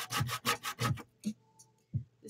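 Hand sanding a wooden piece with poor-quality sandpaper: four quick, close rasping strokes in a steady rhythm, then a pause and two more isolated rubs, with a faint steady hum underneath.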